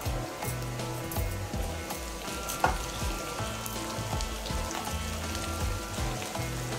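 Onions and curry leaves fry steadily in a pan for a fish curry, a continuous close sizzle with faint rhythmic knocks in the background and no talking.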